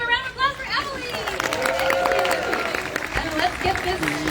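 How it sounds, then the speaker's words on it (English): Audience at a Twin Cities Nerd Nite lightning-talk event clapping for a presenter, a dense burst of applause mixed with crowd chatter and a few whoops, fairly loud and close throughout. "everybody give a round of applause for Emily!"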